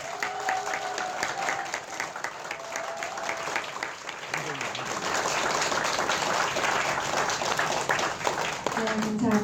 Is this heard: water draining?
no